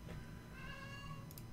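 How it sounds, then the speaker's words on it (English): A pet cat meows once in a long, drawn-out, faint call indoors over steady background hum, alone with no talk. "I don't know if you can hear my cat."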